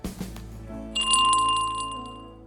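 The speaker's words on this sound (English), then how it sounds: "The bell is ringing." A bell rings with a bright, sustained metallic tone for about two seconds, steady and fairly loud, after a short burst of rattling noise.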